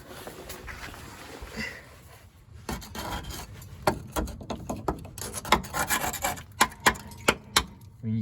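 Underseal being scraped off sound metal beneath a Standard Vanguard car up on ramps, heard close up as a run of rough, rasping scrapes that turn into sharper, rhythmic strokes and knocks toward the end.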